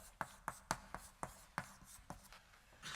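Chalk taps and strokes on a blackboard during a physics lecture, about ten sharp quiet knocks in an uneven rhythm, each followed by a short scrape.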